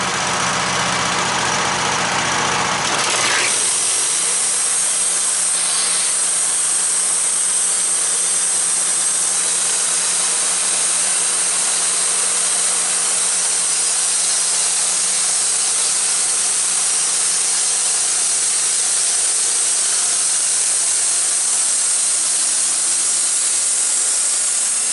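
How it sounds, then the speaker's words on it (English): Wood-Mizer LT15 sawmill with its blade engaged running back through sawdust, a loud continuous engine drone with a bright hissing whine that starts abruptly after a few seconds and holds steady. "I'm going to engage the blade and I'm going to bring it back"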